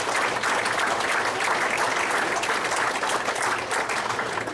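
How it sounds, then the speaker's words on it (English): Sustained, steady applause from a banquet audience at the 2010 Brown County Speedway racing banquet, honoring the street stock division's top finishers. The clapping is dense and loud, holding at an even level throughout. "How about a big round of applause for the top with all 10 through second anyway in the street stock"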